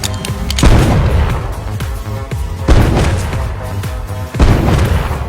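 Deep, booming gunshots in the movie Faster ring out a few seconds apart, each a heavy blast with a rumbling tail over a dense, loud background.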